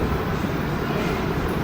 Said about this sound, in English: Get some footage of the Azur leaving the station.